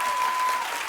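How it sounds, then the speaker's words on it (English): A studio audience at a daytime talk show claps steadily, a dense close wash of applause that holds at an even level for under a second with no distinct voices. "keep the claps going"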